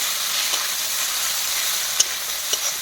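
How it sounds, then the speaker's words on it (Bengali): Chopped onions fry in a wok with a steady, close sizzle, and a few light clicks of stirring break through the hiss. "পেঁয়াজ কুচিগুলোকে দিয়ে দিচ্ছি। তুমি কড়াইতেই দেখো, পেঁয়াজটাকে একটু ভাজা করবো হালকা"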